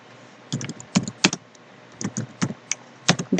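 Someone types a command into a Python shell on a computer keyboard: short, crisp bursts of keystrokes in irregular clusters, close and clear in an otherwise quiet room.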